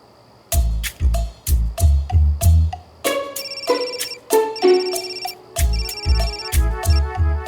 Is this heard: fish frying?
no